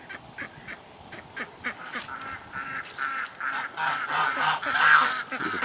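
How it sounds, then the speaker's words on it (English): Geese among ducks at Daingerfield State Park, by a lake, honking in a run of repeated nasal calls, fairly close and growing louder, with overlapping squawks near the end. "Actually, there's a couple of geese there too."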